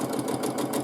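A sewing machine stitching free motion quilting in small pebble shapes, its motor running in a steady, close, continuous whir with a fast needle patter and no voices.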